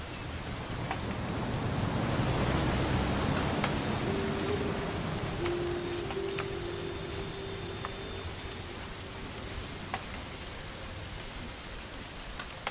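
Steady rain in the video game What Remains of Edith Finch falls in a constant hiss of drops on surfaces, with a faint low tone humming underneath for a while.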